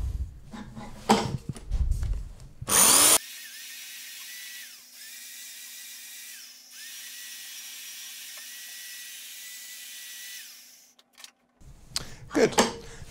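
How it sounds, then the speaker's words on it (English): A carved wooden kuksa cup being hand sanded: a steady, even rasping that runs for about eight seconds, bracketed by brief knocks and handling noises. "Now, while I'm hand sanding this in, I'm not going too fine."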